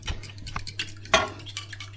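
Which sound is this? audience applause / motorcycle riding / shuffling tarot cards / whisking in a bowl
whisking in a bowl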